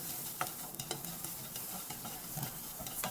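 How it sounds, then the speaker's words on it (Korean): Bellflower root (doraji) is stir-fried in a pan for bibimbap, a steady crackling sizzle with quick scraping stir strokes, close and continuous, no voices. "자, 도라지 볶아줍니다"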